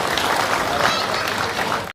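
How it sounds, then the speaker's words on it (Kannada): An audience applauds at a Bajaj auto-rickshaw event with steady, dense clapping for about two seconds, cut off abruptly at the end. "ನಿಮಗೊಂದು ದೊಡ್ಡ ಚಪ್ಪಾಳೆ"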